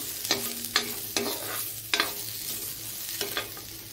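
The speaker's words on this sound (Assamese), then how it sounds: "এইখিনি আগতে ভাজি ল'ম কেৰাহীত ইয়াতে অকল নিমখ দিম" Food frying in a wok with only salt added: a low sizzle broken by five sharp spatula scrapes and clatters at irregular intervals, close by and with no voices.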